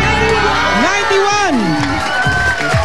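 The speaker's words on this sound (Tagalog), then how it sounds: "Palakpakan na may kasamang sigawan." Crowd cheering and shouting with clapping mixed in at a Filipino live show as a score of 91 is revealed, a loud, continuous mass of voices and whoops close by with a host's voice riding over it.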